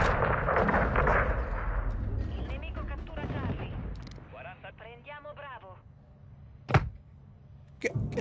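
Video game gunfire and artillery-like blasts from a multiplayer shooter, booming over a dense mix, with a player talking excitedly throughout and a couple of sharp isolated shots near the end.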